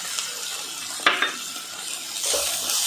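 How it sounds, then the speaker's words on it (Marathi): Kat vada masala frying in oil with curry leaves and coriander, a steady broadband sizzle with a few scraping stirs of a spoon against the pan, close and continuous, no talk. "व छान खमंग असं हे भाजून घ्यायचं आहे"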